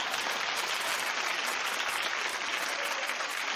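Studio audience applause on a daytime talk show, a dense, steady wash of many hands clapping at once, loud and continuous throughout with no voices above it.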